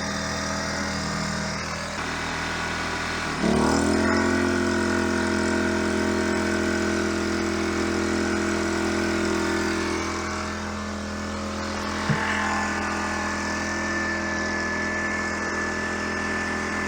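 Small, lightweight Alp 1000 propane generator running under load, a steady engine drone that bogs and rises in pitch as the load is applied, then holds a constant hum with a faint whine.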